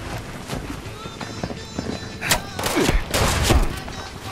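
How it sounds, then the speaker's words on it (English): Rapid bursts of gunfire in the video game Fallout 76, a flurry of sharp close shots and thuds clustered toward the end, with game noise underneath. "I hear a bunch of gunshots."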